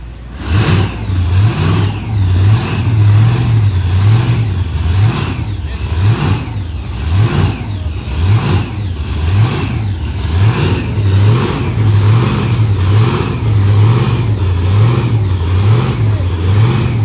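Pro Mod drag race cars at Bradenton Motorsports Park rev loud and close, their engines rising and falling in a repeating series of throttle blips over a constant roar that lasts the whole stretch.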